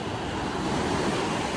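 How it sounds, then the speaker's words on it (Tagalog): Ocean waves washing ashore at a cove, a continuous, fairly loud rush of surf mixed with wind buffeting the microphone, with no talk. "Sarap ng alon, no?"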